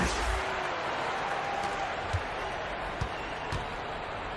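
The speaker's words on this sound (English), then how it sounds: "Round of applause for your Lakers youth dance team." Arena crowd at a Lakers basketball game applauding the Lakers youth dance team, a steady broad wash of clapping and cheering with a few sharp thumps mixed in, loud and continuous throughout.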